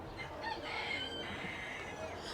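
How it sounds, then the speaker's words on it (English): A rooster at a pumpkin patch ranch clucks and murmurs close by, a continuous run of low throaty calls with faint outdoor background and no talk. "Excuse me, Mr. Rooster. He's right in my foot."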